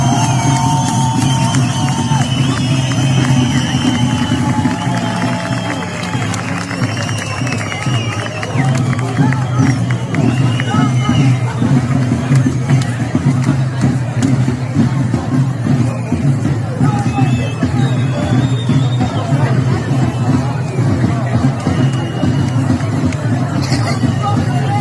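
A protest crowd gathered in a street, with a constant loud babble of many voices and shouting filling the whole stretch, with close talk mixed into the hubbub.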